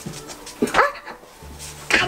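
A dachshund puppy giving a few short yips and whimpers close by, brief high squeaky bursts separated by pauses.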